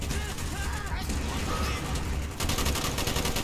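Dense, continuous gunfire from the video game Call of Duty Black Ops, with rapid machine-gun bursts and overlapping shots throughout, loud and sustained, and speech faintly mixed underneath.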